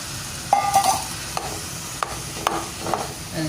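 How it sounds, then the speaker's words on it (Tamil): Leeks sautéing in a pan while being stirred, a steady low sizzle broken by several sharp scraping and stirring clatters of the utensil, close and moderately loud with no talking. "நான் லீட்ஸ் மட்டும் சேர்க்கிறேன். கலந்துடுவோம். இப்போ வதங்குது."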